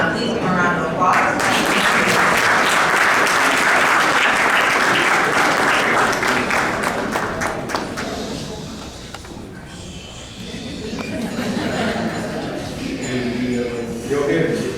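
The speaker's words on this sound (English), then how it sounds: "Please give a round of applause." Loud audience applause at the Forbes Afro Future Summit awards gala, dense clapping that fills the room for about eight seconds, then eases into a softer, more scattered ovation mixed with crowd murmur.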